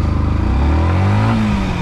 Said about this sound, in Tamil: ஸ்டார்ட் பண்ணுறேன். Exhaust note matters.